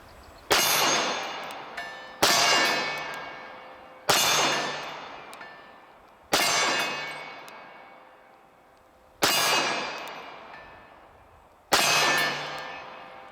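A Sarsilmaz SAR-9 pistol is fired at a steel target at the range. Six evenly spaced shots each ring out as a sharp metallic clang with a long fading ring, roughly two seconds apart.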